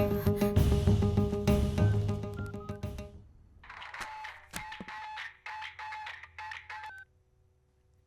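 Telephone keypad tones dial a number in quick, evenly spaced beeps after a louder stretch of background sound, ending in near silence.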